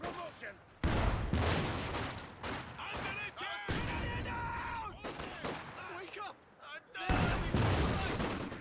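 Gunfire and explosions from a Company of Heroes 2 1v1 match, with bursts of shots and heavy booms coming in waves under steady battle noise, and a commentator talking over much of it.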